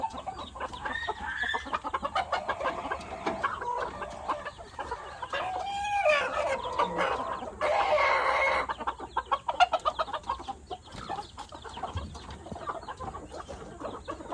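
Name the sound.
white American chickens clucking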